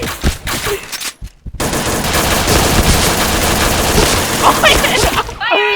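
Sustained automatic gunfire from a video game, a dense rapid rattle of shots filling most of the stretch after a brief gap, loud and close, ending in a few sharper electronic effects.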